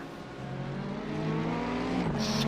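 Race cars roar past on a circuit during an overtaking move in a warm-up race, a loud sustained engine drone that swells and shifts pitch as the cars go by.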